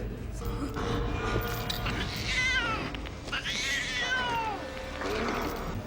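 A cat on a horror film set meows and caterwauls repeatedly in drawn-out, wavering cries close by, while people talk in the background.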